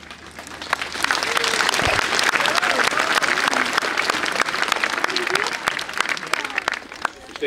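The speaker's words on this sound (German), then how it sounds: "der Applaus galt Ihnen jetzt an der Stelle" Audience applause fills a hospital meeting with a visiting state social minister, steady dense clapping from many hands continuing for several seconds, with some voices mixed in.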